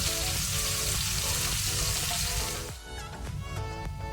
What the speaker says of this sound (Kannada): ಲೋ ಫ್ಲೇಮಲ್ಲಿ ಸ್ವಲ್ಪ ಫ್ರೈ ಮಾಡುವ, ಹಸಿ ವಾಸನೆ ಹೋಗಲಿ ಶುಂಠಿ ಬೆಳ್ಳುಳ್ಳಿಯದು